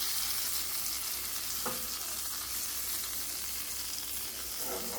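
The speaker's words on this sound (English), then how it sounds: "And I have our smoked sausage, and we're just going to lightly brown that off." Smoked sausage browns in a pan with a steady, close sizzle of frying fat, broken by a brief stirring scrape near the middle and another toward the end.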